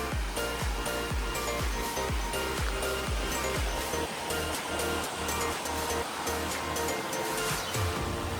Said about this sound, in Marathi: सुंदर धबधबे आहेत बघा